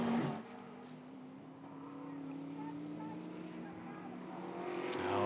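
American Sedan race cars driving through a left-hand turn at Virginia International Raceway during the SCCA National Championship Runoffs, engines droning steadily at a distance and rising slightly toward the end.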